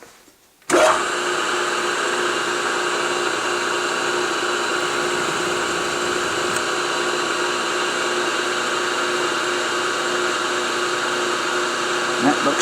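A milling machine drilling with a jobber length twist drill, a loud, steady motor whine that starts abruptly and holds constant for several seconds up close.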